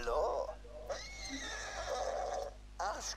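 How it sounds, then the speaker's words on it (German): A horse in the video game Borderlands 2 gives several loud whinnies and neighs, with rising and falling squeals, alongside game sounds and someone talking. "Es ist ein lebendiges Pferd."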